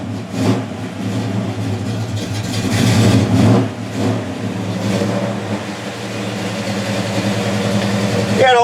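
A 350 V8 with a high-rise intake and Edelbrock 600 carburetor runs in a chopped VW, a steady mid-pitched engine drone with light revving swells, heard close with no talk over it.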